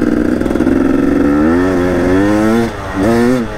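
A KTM EXC 250 two-stroke dirt bike engine revs loud and close, a buzzy crackling note rising through several throttle pulls with a brief dip before revving again.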